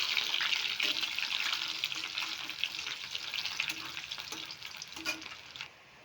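Onion sizzles and crackles steadily in a hot pan for soybean curry, with soft scraping stirs now and then, then the sizzle quiets near the end.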